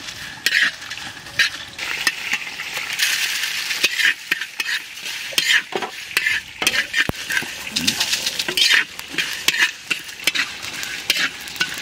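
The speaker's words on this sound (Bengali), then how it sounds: "শুকনো খোলাতে শুকনো লঙ্কা, গোটা ধনে, গোটা জিরে ভেজে নেব" Dried chillies, whole coriander and cumin seeds dry-roast in a hot pan, rattling and scraping in quick, uneven strokes as they are stirred, with a light crackle close up.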